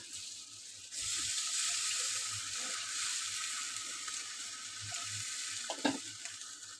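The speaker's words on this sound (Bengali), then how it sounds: "এখন আমি সামান্য জল দিয়ে দেবো" Water poured into a sizzling frying pan of fried fish curry ingredients sets off a steady, broad hiss that swells after the first second and holds, with a few soft clinks near the end and no talking.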